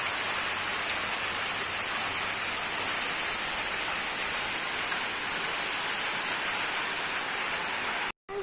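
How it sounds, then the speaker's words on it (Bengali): Heavy rain pours down steadily outside a window, a dense, continuous hiss of drops on surfaces that holds constant before cutting out abruptly near the end. "প্রচুর বৃষ্টি পড়ছে, বিশাল বৃষ্টি পড়ছে"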